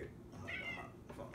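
A house cat gives a single drawn-out meow, close and fairly soft, with faint indoor background around it.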